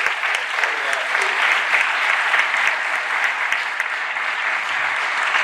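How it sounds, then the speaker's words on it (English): Steady, dense applause from an audience at a scholarship awards ceremony, applauding the students' supporters, sustained and even at moderate loudness throughout with no speech over it. "I ask you to give yourselves a round of applause for the support you provided to these students"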